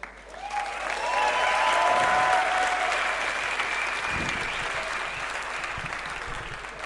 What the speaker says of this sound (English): Let's have one last cheer for the teams and get into the game.